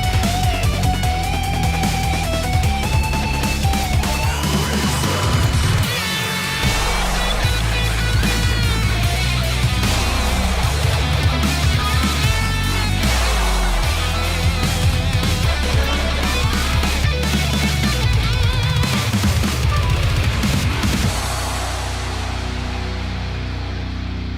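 Heavy metal soundtrack from the game Metal Gear Rising: Revengeance, driven by low-tuned seven-string guitar riffs with dense drums and layered synth melody, loud and continuous, slowly fading toward the end.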